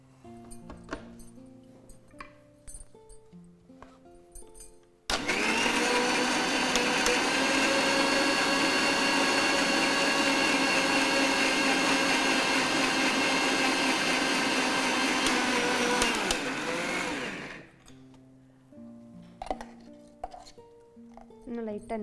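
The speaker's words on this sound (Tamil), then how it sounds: "இப்போ நல்லா இதை ஃபைன் பேஸ்ட்டாக அரைச்சி எடுத்துகிட்டு வந்துக்குவோம்." A mixer grinder runs steadily and loudly for about twelve seconds, grinding cheese roll ingredients into a fine paste, then stops abruptly, with quieter kitchen sounds around it.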